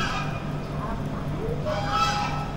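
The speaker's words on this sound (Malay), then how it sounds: "Ada angsa. Ada swan." Geese or swans at a lakeside resort in Port Dickson honk a few times in a short burst, mid-distance, over steady outdoor background noise and faint nearby voices.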